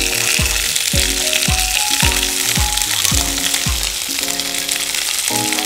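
Mint leaves fry in a pan on a cookery show, giving a dense, steady sizzle. Repeated scrapes and knocks from stirring come every half second or so, close and fairly loud.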